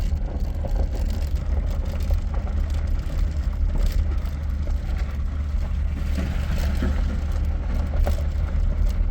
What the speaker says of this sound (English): Hear all my crap rattling on the dash.